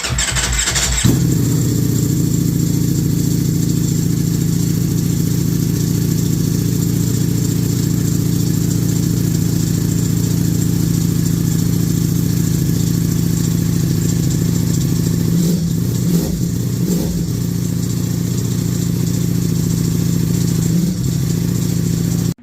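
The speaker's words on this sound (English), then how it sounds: "I'm gonna start the exhaust so you can hear what it sounds like." A 2023 Ducati Panigale V4 SP2 superbike idles steadily with a loud, close low-pitched rumble from its engine and exhaust, with a brief blip of throttle near the end and no talk.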